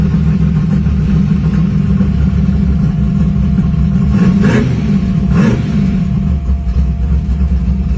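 A pro street car engine runs loud and steady with its exhaust closed, muffled, revving up twice in quick bursts before settling back to a rumbling idle.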